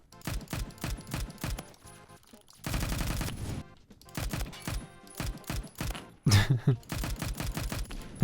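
DMR rifle firing in Roblox Phantom Forces, rapid sharp cracks in quick volleys broken by short pauses, each crack close and loud, with a denser burst of fire partway through.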